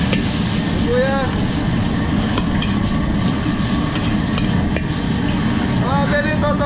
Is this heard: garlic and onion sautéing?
yes